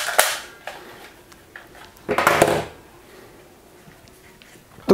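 Toy gun from an army role-play set firing two sharp, clicky snaps a couple of seconds apart, close by, with small handling clicks in between.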